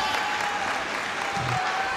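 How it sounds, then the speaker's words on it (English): A roller derby crowd at a world cup match in Barcelona breaks into steady, full applause, a dense wash of clapping and cheering that fills the arena throughout. "Crowd responding to that."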